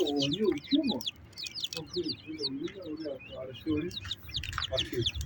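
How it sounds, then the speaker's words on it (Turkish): Quails in a coop chirp and cluck steadily in a busy chorus of short, overlapping calls, close by, with faint background rustling. "burada Halit abinin bıldırcınları var"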